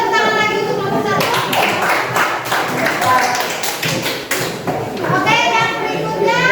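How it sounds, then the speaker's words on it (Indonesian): A classroom of students claps for group one, a dense burst of hand claps with children's voices chattering over it, close and loud, then trailing into talk. "kita tepuk tangan lagi untuk kelompok satu"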